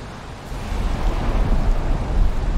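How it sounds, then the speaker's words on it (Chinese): A thunderstorm in the video game Valheim: a broad, low rumble of thunder swells over steady rain and wind noise, with no voices. "哇，而且还下雷雨。"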